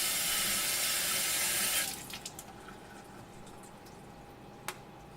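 Sink tap running strongly over a cold brew coffee filter for a couple of seconds, then shutting off, leaving a few faint drips and a single small knock in a quiet room.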